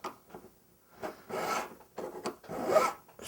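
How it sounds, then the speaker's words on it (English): Rhythmic rasping strokes of a hand file trimming and evening the edge of a domed metal jewelry piece at a workbench, close and fairly quiet, coming in several short bursts with brief pauses. "Now I'm going to take and trim the edge, even that up"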